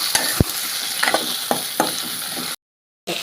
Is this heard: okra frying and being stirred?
yes